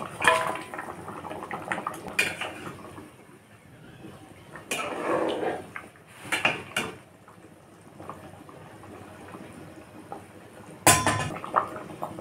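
Pieces of katla fish going into a pan of light curry with potol: clinks and scrapes of cookware, soft splashing and stirring in bursts, a few sharper knocks, close and moderately loud with no talk.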